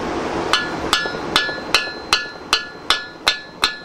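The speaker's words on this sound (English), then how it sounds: "This is really a death nail for this head, beating on it with a metal hammer." A metal hammer strikes a Volkswagen Type-4 1700cc bus engine's cylinder head nine times in a steady rhythm, each blow a sharp, ringing metallic clang with no talk.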